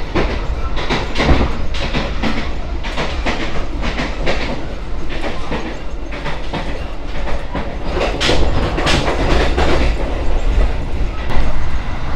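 The Gumarang executive-class train rolls along the rails near Jakarta, giving a steady low rumble inside the carriage with repeated clickety-clack wheel beats over rail joints. No voices are heard.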